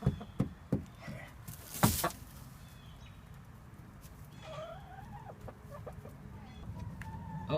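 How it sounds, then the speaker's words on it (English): Chickens cluck close by on a farm, with a few sharp clucks and a loud squawk early on, then softer murmuring clucks over faint outdoor background. "And we have chickens."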